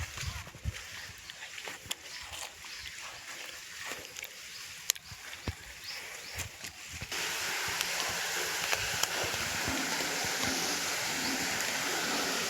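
Water flowing into a channel in a sorghum field, heard first faintly beneath scattered clicks and footsteps, then swelling into a louder, steady broadband rush for the second half.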